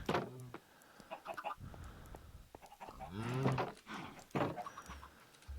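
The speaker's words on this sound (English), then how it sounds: "Come pay a visit to the chickens. Hello, chickens." Chickens clucking in the video game Minecraft, several short bursts of clucks and squawks at moderate volume, with a lower lowing sound mixed in and quiet background between them.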